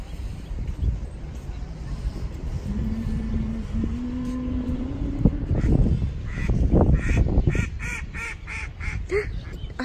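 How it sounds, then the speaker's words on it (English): Ducks quack repeatedly in a bright, nasal series toward the end, over steady outdoor background noise with a car horn and voices at the Amber Fort in India. "There are ducks in India."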